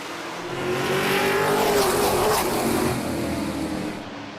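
Race cars roar down the front stretch of Midvale Speedway at the green flag, the engine noise swelling as they pass close by and then fading, loud with a sweeping pitch.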